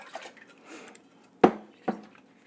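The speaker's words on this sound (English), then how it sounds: "I'm going to dump this whey out" Whey poured out of a container while making mozzarella at home, a quiet liquid rush followed by two sharp, close knocks of the pot or bowl being set down, with no talking.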